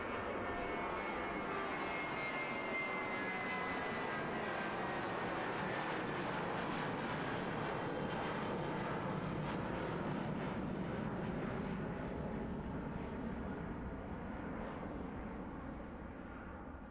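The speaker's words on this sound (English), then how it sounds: "Gorgeous departure. A320 off to Auckland." An A320 departing Christchurch Airport, New Zealand, for Auckland produces a continuous, broad jet roar that stays loud and steady for the whole stretch before easing slightly at the end, with no talking.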